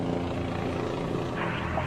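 A steady, droning rotor-and-engine roar of a helicopter, continuous and fairly loud, with no voices.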